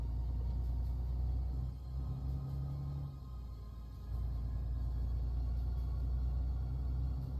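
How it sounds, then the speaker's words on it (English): Deep, continuous engine rumble from a MAN TGX truck in Euro Truck Simulator 2, heavy low tones droning steadily with a brief dip in the middle, no voices. "That is such a throaty sound from the new Man TG3"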